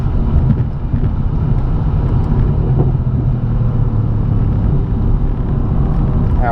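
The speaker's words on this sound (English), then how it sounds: "Let's give it a little gas on this straightaway." Mercedes C63 AMG S Coupe or BMW M3 from 2017 accelerating on a straightaway, a loud, steady engine drone with road rumble that carries on unbroken from start to finish.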